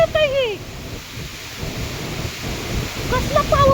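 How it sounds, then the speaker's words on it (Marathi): Heavy rain pours steadily during a cyclone storm, with deep rumbling thunder rolling underneath and a few brief high calls at the start and end. "कसला पाऊस आहे, काय म्हणायचं याला? चक्रीवादळ."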